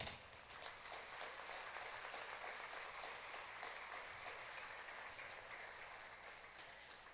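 A Choctaw Nation pageant audience gives a round of applause for the tribal chief and council members, a steady, dense wash of clapping sustained for several seconds at moderate distance.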